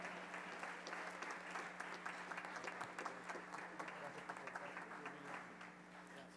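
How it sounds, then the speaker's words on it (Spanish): A church congregation applauds a visiting pastor, Felipe del Castillo, with dense, steady clapping that stays loud and continuous throughout, with some voices mixed in. "Denle un fuerte aplauso para recibirlo."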